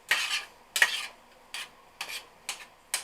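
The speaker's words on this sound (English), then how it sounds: "So I'm going to add the pork to the pan, break up the pork meat. And just try and mix everything all together." A utensil scrapes through ground pork in a pan to break up the meat, making six separate stirring strokes at a steady, fairly close rhythm.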